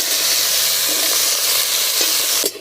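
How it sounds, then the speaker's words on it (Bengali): Cut potatoes fry in hot oil in a village kitchen with a steady, close, hissing sizzle. A brief utensil clatter comes at the end. "এই তেলেই কেটে রাখা আলু আমি ভেজে নেব।"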